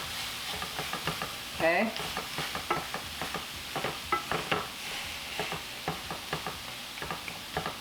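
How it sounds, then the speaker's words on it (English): Food frying in a pan, a continuous soft sizzle under rhythmic scraping and stirring strokes, with a brief spoken word early on. "Then I'm going to let this cook until the edges start getting brown."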